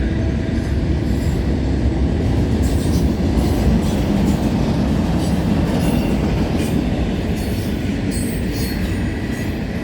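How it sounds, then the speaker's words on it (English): A CN westbound freight train rumbles past continuously at close range at night, with a dense roar of wheels on rails and occasional metallic squeals. "Alright, we got a CN westbound train."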